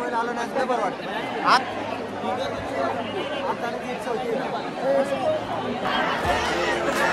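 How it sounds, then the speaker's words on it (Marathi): Dense crowd chatter at a packed Ganpati pandal in Pune, a continuous babble of many voices close around, with shuffling and occasional louder calls rising out of the hubbub. "बेकार गर्दी झाली आहे"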